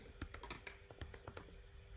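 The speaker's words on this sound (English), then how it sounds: "just typing the instruction in natural language" Keys on a computer keyboard are tapped in a quick irregular run of sharp clicks, close and clear with no talk.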